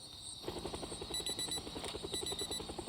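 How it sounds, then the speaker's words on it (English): A helicopter passes overhead in the zombie survival game Project Zomboid, its rotor thumping in a fast, even pulse against a thin high electronic tone, moderately loud and steady. "Okay, that is a helicopter."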